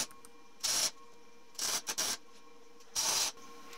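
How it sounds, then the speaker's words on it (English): Short tack welds join steel rods to square steel tubing while a vise is built, heard as three brief, harsh crackling bursts separated by quiet pauses, close by. "Then I'll weld it."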